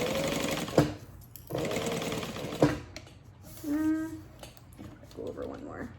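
A sewing machine stitches along a backpack flap in two short bursts of rapid mechanical whirring, each ending in a click, followed by a quiet pause and brief speech.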